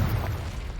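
A Confringo fire spell explodes in a Harry Potter video game, a brief low-heavy boom that rumbles for under a second with no voices over it.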